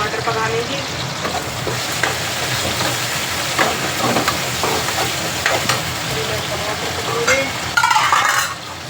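Tomatoes sizzle and fry in a pan over onions, a steady crackling hiss with stirring scrapes, louder near the end, close and continuous with a faint voice.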